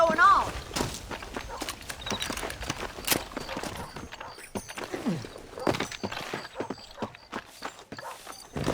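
Horse hooves clip-clopping in Red Dead Redemption, irregular close hoof thuds on a dirt trail mixed with a neigh and other game sounds, with voices talking over them.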